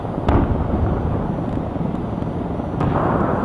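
Bomb blast fired near a street rally against the Israeli killings of Palestinians in Gaza, with a helicopter close overhead: a loud, continuous rumbling roar with sharp cracks near the start and end, heard alone without talk.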